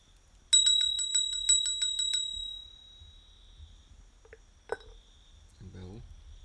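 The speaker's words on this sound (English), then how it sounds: "A bell." A small bell used in preparing an ayahuasca ceremony rings in a quick run of about eight bright, ringing strikes that fade out, followed by a few faint knocks and a brief murmur of voice.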